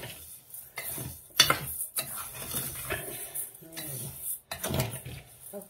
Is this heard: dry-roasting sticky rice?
yes